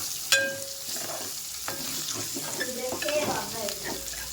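Mutton pieces for fried rice fry in a pan, crackling and sizzling up close while a utensil scrapes and clinks against the metal.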